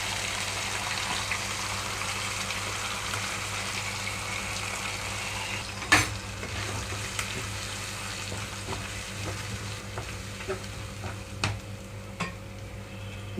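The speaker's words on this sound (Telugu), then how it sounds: "ఇక్కడ గ్రైండ్ చేసి పెట్టుకున్న మసాలా ముద్దంతా తాలింపులో వేస్తున్నాను" A masala paste of ground coconut, ginger-garlic, tomato and onion fries in hot tempering, giving a steady low sizzle and a background hum, with a few stirring knocks scattered through it.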